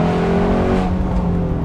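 A lightweight performance car's engine revs hard to about 5,000 RPM, a loud, close, continuous roar that climbs and then settles, with no talking over it.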